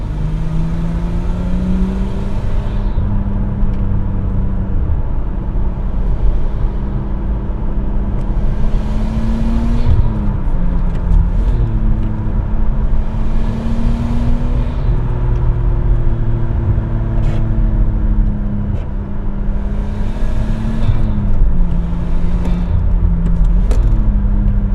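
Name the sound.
Nissan R34 Skyline GTT exhaust drone while driving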